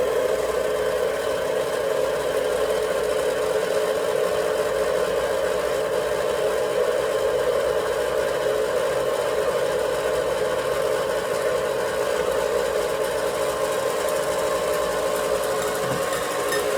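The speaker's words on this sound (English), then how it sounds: "Now this is an older KitchenAid, it's kind of noisy" An older KitchenAid stand mixer runs at a steady speed, giving a continuous, fairly loud motor whir and drone that holds unchanged throughout, with no talking.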